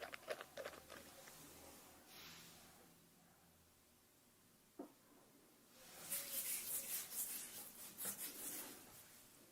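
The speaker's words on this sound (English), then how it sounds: "I'm gonna put it in my fingers and I'm gonna rub it against your skin." Fingers rub a few drops of alcohol-free, fragrance-free skin product into skin, a soft close brushing hiss that swells to a steady, quiet friction texture near the end, with a faint tap or two before it.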